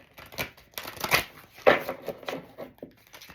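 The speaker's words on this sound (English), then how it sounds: "It's been shuffled, but I'm going to shuffle it again." A big deck of cards being riffled and shuffled, a quick flurry of soft papery flutters and slaps heard up close, with no one speaking.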